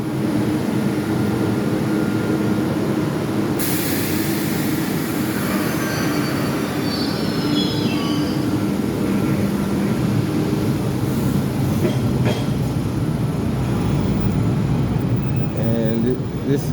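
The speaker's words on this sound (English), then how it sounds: "So that's the outbound train right there." An outbound Orange Line subway train rumbles loudly and steadily through a station, wheels squealing against the rails, with a voice talking faintly underneath.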